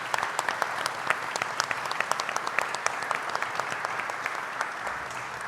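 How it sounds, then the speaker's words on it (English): Applause from the audience at a sickle cell disease roundtable inside a state house venue, moderate and steady with crisp individual claps throughout, slightly thinning toward the end. "So let's give them a round of applause."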